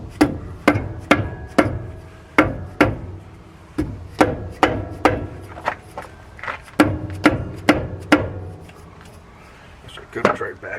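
Repeated hammer blows on the brake drum of a 1963 Chevy C30 pickup, a steady run of about twenty sharp metallic strikes close by, with short pauses between clusters.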